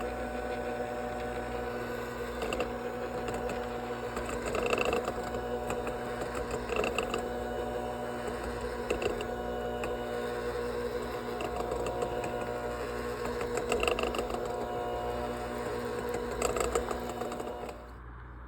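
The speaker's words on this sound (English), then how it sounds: "take the mixer again, and we're gonna keep it on low" An electric mixer runs steadily on low speed, churning vegan chocolate ganache for a cake frosting, its motor whirring continuously with slight rhythmic swells and a constant underlying hum, close by, with no talking.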